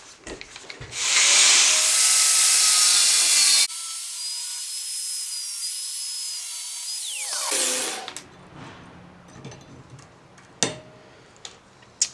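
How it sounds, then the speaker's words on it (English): An angle grinder with a thin cut-off wheel slices through a steel knife blank, producing a loud, sustained high-pitched whine for several seconds. The wheel then spins down, followed by scattered clicks and clanks. "So I only just cut off wheel on the grinder, and that's how I'm going to do this."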